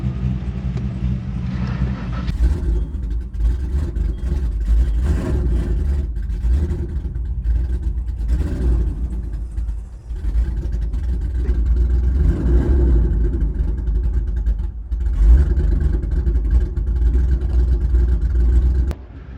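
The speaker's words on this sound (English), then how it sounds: "I'm going to roll off the line and try and go easy" A naturally aspirated GT car rolls gently off the drag strip line, its engine a steady, loud low drone that swells slightly as the car gets moving, with no speech.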